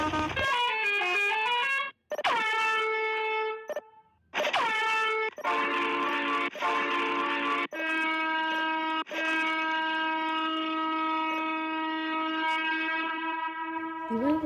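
A bus horn in a bus driving video game blares loud and close in long sustained harmonic blasts, with several short breaks and then one extended held tone.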